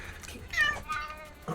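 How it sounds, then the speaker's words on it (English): A house cat meows loudly indoors, giving a couple of rising, tonal calls in short bursts close to the listener, with faint household noise around them. "You're gonna hear cat."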